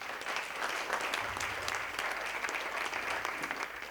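A comedy audience clapping, a steady, dense patter of many hands filling the room at moderate loudness, continuous and without talk.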